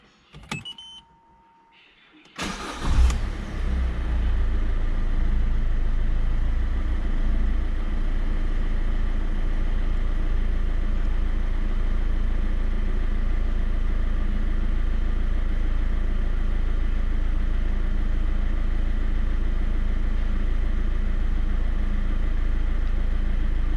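A Peugeot 208 engine cranks briefly after a quiet moment, catches, and settles into a steady, rumbling idle that continues evenly for about twenty seconds.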